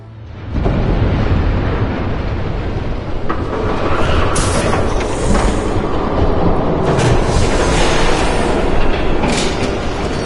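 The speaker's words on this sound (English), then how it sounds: "There's a train coming." A train in Batman The Telltale Series thunders past with a loud, continuous, heavy roar and rumble, dominating the scene without any speech.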